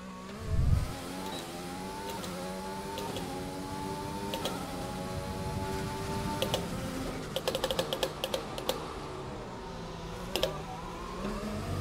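A Formula One car's engine whines and shifts through gears on a hot lap of Spa, a steady high-pitched rising and falling drone with clicking paddle-like taps, heard from onboard with no talk.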